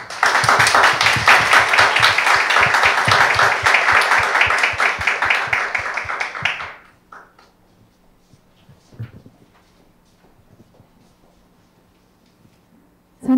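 Applause from the audience at a Korea University startup award ceremony, with loud continuous clapping for roughly six seconds before it dies away into a quiet hall with a few small knocks.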